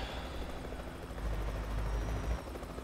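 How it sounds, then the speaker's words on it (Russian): A helicopter in the trucking video game Euro Truck Simulator 2, a steady low rotor thrum and engine whine holding at a moderate level throughout, with no talk over it. "Вертолет там приземлился."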